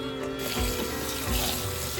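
Tap water runs steadily while soaked rice and lentils are rinsed for dosa batter, a close, continuous splashing gush with a couple of heavier swishes. No one speaks.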